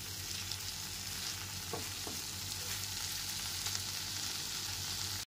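Potato pieces that were fried earlier are being stir-fried in a pan for a soyabean do pyaza. A steady close sizzle runs through it, with a few brief stirring scrapes near the middle. No one speaks.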